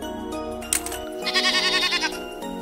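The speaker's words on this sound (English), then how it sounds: "White sheep." A white sheep bleats loudly and close, with a wavering, drawn-out call standing alone.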